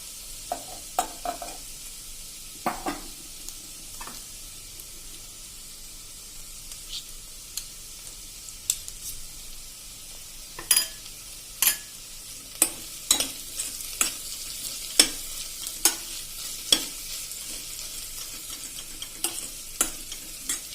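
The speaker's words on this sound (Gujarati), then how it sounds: "આપણું લસણ એકદમ સંતળાવા જ આવ્યું છે" Garlic sizzling in hot ghee with a soft continuous hiss, punctuated by sharp clicks and scrapes of a spoon stirring in the pan.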